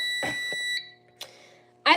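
A building fire alarm sounds in a string of short electronic beeps. A steady high tone runs through and under the pulses, and several bursts come close together.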